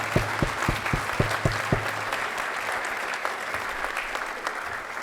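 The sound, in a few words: conference audience applause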